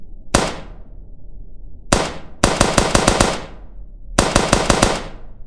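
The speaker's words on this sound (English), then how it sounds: "Now Sigma Corn will shoot this new AK-47." Automatic AK-47 fire in the video game Melon Playground: a single shot, then two separate bursts of rapid rattling shots, loud and close, with no talk over them.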